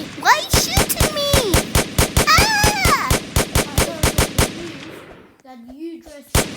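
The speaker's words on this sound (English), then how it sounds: "Why are you shooting me?" Loud, rhythmic gunfire in a roleplay video game, a long run of evenly spaced sharp shots that stops near the end, with a voice talking over it and continuing after.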